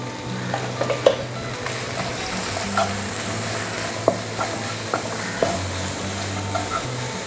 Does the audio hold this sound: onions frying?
yes